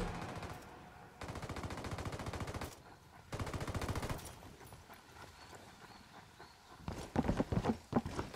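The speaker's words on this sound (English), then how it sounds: "Firing." Rapid automatic gunfire in the video game Ghost Recon Wildlands, loud rattling bursts separated by short pauses, ending in heavier irregular shots.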